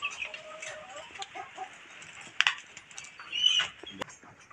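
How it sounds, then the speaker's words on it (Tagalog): Chickens clucking and calling while being fed coconut, scattered near clucks and a few sharper squawks, fairly faint, with no talk. "Ibigay ko na ito agaw, mga manok."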